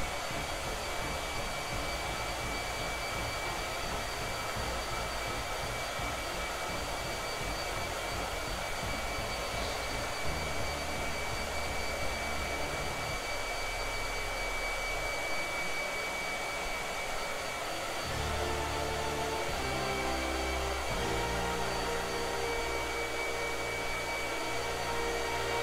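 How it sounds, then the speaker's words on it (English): A hair dryer blows with a constant, loud rushing hum, unbroken from start to finish, its pitch shifting slightly partway through, used during a painting session. "Blow dryer."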